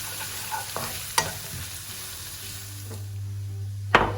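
Onions and grated garlic fry steadily in a pan, giving a continuous low sizzle, with a few sharp clinks and knocks of stirring along the way.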